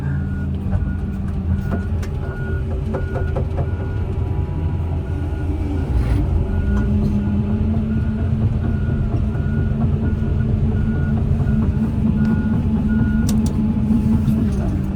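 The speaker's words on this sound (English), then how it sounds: "I think I'm gonna unhook my backup alarm because it's unnecessary out here." Farm tractor backup alarm beeps in steady repeated tones under a loud, constant diesel engine rumble throughout, heard from the driver's seat in an open field.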